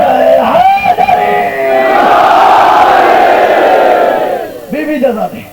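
A large crowd at a Muharram azadari gathering in Kanodar, Gujarat, roars back a loud, sustained collective shout answering the Naara-e-Haidari slogan, rising and holding for several seconds. Brief single voices are heard before and after it.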